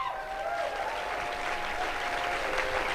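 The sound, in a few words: audience applause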